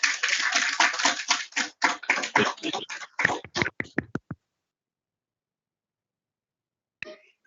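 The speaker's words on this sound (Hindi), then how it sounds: "तालियां बजाओ भाई" Students in a class clap together in a brisk, uneven burst of applause lasting about four seconds before it stops abruptly, followed by silence and a faint sound near the end.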